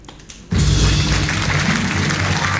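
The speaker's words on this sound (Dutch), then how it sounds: "geef hem daarvoor een applaus, dames en heren" A theatre audience bursts into loud applause after a quiet start, the clapping dense and sustained to the end.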